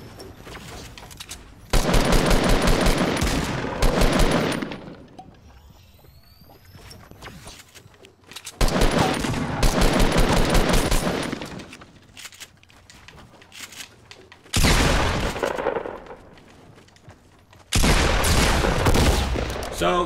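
Fortnite gunfire from an Xbox match erupts in four loud, dense bursts of rapid shots, each a few seconds long, separated by quieter gaps.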